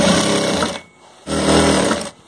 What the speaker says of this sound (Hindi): एक साइड का जांग को सिलाई करेंगे